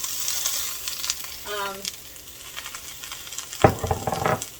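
Spinach tossed into a pan of sweet potato hash, raising a sudden loud burst of sizzling and crackling near the end after a quieter stretch of frying hiss.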